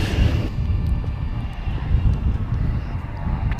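A Jetstar airliner pushes back at an airport, heard as a steady, loud low engine rumble and broadband roar with some wind buffeting, continuous throughout.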